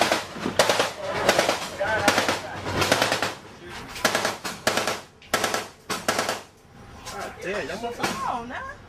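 Machine gun fire during a navy engagement with Somali pirates at sea: repeated loud bursts of rapid shots in several volleys, with shouting voices in between and bird-like whistling near the end.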